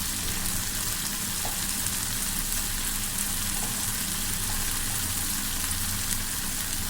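Pomfret fish curry masala sizzling in hot oil in a pan with turmeric added, a steady, dense frying hiss that holds evenly throughout, close with no talk.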